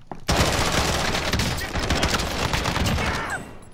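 Rapid automatic gunfire in Call of Duty: Modern Warfare rattles loudly and continuously in a dense close fusillade, with a faint voice underneath.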